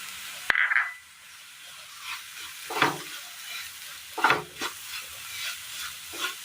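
Grated coconut stirred into a pan of melting jaggery gives an initial clatter and then a series of soft scraping, sizzling stirs with quiet pauses between them; no talking.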